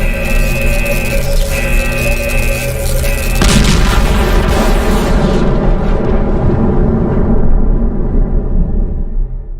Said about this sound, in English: This thing is going to explode.